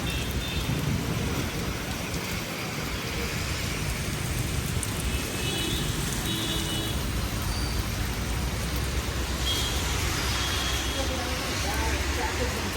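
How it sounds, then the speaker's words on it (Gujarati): Heavy rain pours down during a storm in Bhavnagar, India, in a dense, constant roar, with storm rumble mixed in and no pause. "ભાવનગરમાં ફૂલ વાવાઝોડું ને બહુ વરસાદ આવે છે"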